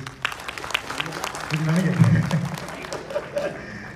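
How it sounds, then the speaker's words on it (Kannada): Audience applause breaks out at a trailer launch event, a swelling burst of clapping with crowd noise that peaks mid-clip and tapers off, with a voice speaking over it. "ಎಲ್ಲರೂ ಜೋರ ಒಂದು ಚಪ್ಪಾಳೆ ತಟ್ಟಿ ಪ್ಲೀಸ್"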